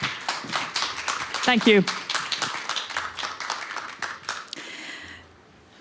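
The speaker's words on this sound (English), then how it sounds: "let's give one more round of applause to our last speaker of the day." Audience applause for the final speaker at a fashion event arrives as a quick run of sharp claps under a brief spoken thanks, then tapers to quiet near the end.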